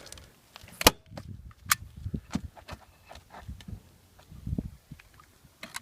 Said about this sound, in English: I am just going to staple this down